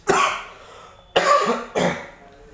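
Three harsh coughs, close and loud, spaced by short pauses, with no talking.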